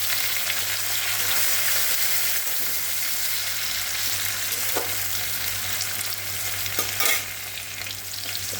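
Chopped onion and tomato fry steadily in a pan of oil for a puti fish dish, with a constant close sizzle and a few clicks of stirring, no voices.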